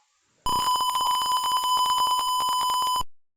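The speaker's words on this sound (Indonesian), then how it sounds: "buzzer akan berbunyi dan LED akan hidup" A motion detector alarm's buzzer sounds one loud, steady electronic tone for about two and a half seconds, starting abruptly and then cutting off.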